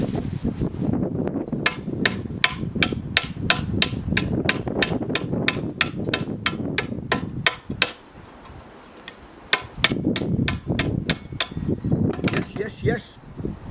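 Flint is struck against steel outdoors to light toilet paper, giving a fast run of sharp, evenly spaced metallic scrapes. The strikes pause briefly and then resume in a second burst, with wind buffeting the microphone throughout.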